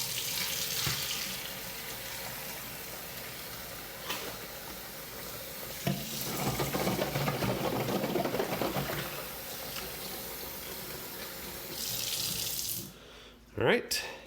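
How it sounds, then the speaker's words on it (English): Water pours steadily into a small pocket gold sluice at an outdoor prospecting setup, a continuous rushing splash lasting most of the stretch, swelling in the middle and fading out near the end. "Let's go ahead and fill this with some water."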